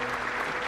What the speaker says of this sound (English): After each victory of Beth, more fans wait to applaud her outside the venue.